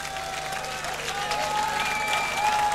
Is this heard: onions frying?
no